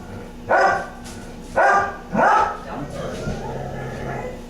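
A dog gives a few short vocal bursts, close by, followed by a lower drawn-out rumbling growl that fades under background noise.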